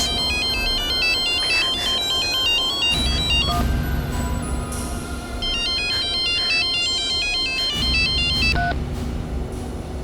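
A mobile phone ringtone plays a repeating electronic melody, loud and close, looping for the whole stretch over a steady background hum with no talking.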